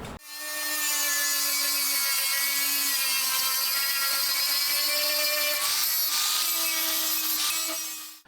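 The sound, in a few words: grinding rusty truck fender metal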